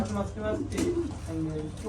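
Holland Jacobin fancy pigeons coo in soft, low repeated phrases at close range, with a voice speaking over them throughout.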